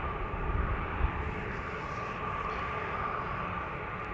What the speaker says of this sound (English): Delta A330 to Boston, flight 243,